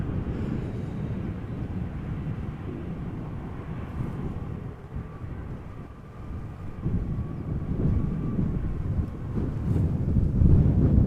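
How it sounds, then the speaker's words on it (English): KLM Embraer 190 arriving at Amsterdam Schiphol in a crosswind, a distant jet rumble mixed with gusty wind buffeting the microphone, growing louder toward the end. "Next up is going to be KLM flight 1296 and Embraer 190."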